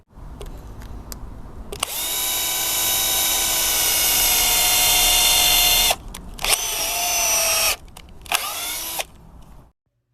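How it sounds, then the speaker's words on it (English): A power drill drives a screw into a pallet wood beam for a raised garden bed, whining loudly in a long sustained run, then two shorter bursts, alone without talk. "We're going to drill it down this way so it can support it through the beam."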